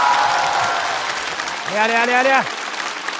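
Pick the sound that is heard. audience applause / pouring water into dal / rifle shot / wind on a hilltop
audience applause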